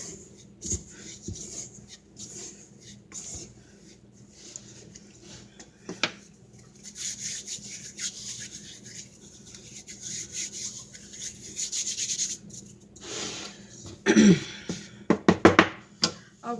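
Flour being scraped down the sides of a mixing bowl while making homemade perogy dough: soft, intermittent rubbing and rasping strokes close by, growing louder and busier near the end.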